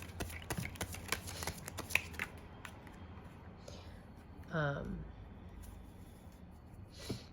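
Tarot cards riffled and flicked in quick, soft crackling bursts, then a brief fuller shuffle sweep, close and quiet, with a voice speaking softly at moments.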